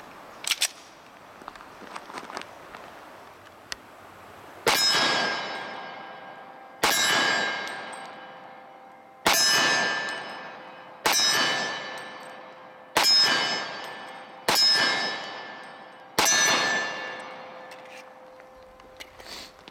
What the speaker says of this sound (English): We're gonna put some rounds down range now.